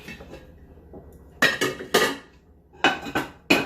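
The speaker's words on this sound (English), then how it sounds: "these are the pots that I'm gonna use" Metal cooking pots clanked and shifted on a kitchen counter, giving several sharp, close clangs and knocks in uneven rhythm over a quiet background with no talking.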